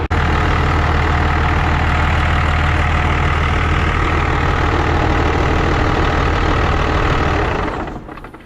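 A 5.9 Cummins 12-valve diesel truck engine idles loudly and steadily at a low 700 rpm with a rough, knocking rumble, then begins to fade at the very end.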